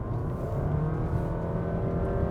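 A 2023 Honda City e:HEV hybrid revs hard at full throttle, its engine drone rising and sustaining close and strong, a smooth continuous roar with no talk over it.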